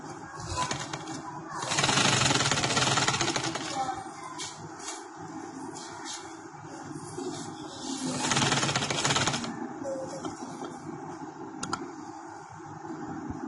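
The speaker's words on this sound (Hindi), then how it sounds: "और ये मेरी इधर से सिलाई शुरू हो जाएगी।" A sewing machine stitches a baby girl's shirt, whirring in two loud sustained runs with quieter handling between them, while someone speaks quietly.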